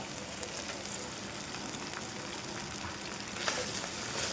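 Noodles tossed into frying spices for a chicken liver noodle dish, with a steady close crackling sizzle and faint stirring scrapes in the pan, no voices.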